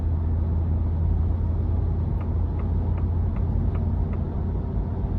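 A 2023 Ford F-250 Lariat Ultimate pickup with a 7.3 liter V8 and big tires accelerating, a steady low engine drone and road rumble heard from inside the cab, fairly subdued and even throughout.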